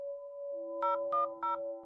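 A telephone is dialed, a steady tone followed by three short keypad beeps in quick succession, quiet and alone.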